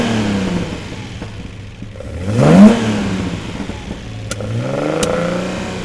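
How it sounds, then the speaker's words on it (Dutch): A Datsun 260Z with a sport exhaust, its engine revving near the listener; a rising rev swell midway, then a settled throaty idle and a second climb, with small clicks in between and no talk. "Het motorgeluid vind ik prachtig. En dan vooral gecombineerd met een sportuitlater"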